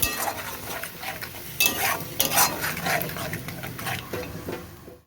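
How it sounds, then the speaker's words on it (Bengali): Masala with cashew paste, raisins, chilli powder and salt sautés in a pan for a Bengali prawn malai curry, giving a continuous soft sizzle under repeated scraping and clinks of a spoon stirring against the pan. "কাজু কিশমিশ, কাজু বাটা, আর একটুখানি লঙ্কার গুঁড়ো, নুন দিয়ে ভালো করে কষিয়ে নিতে হবে"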